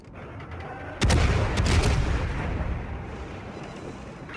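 Heavy naval guns firing from warships in World of Warships, a booming salvo with several close cracks followed by a long rolling rumble.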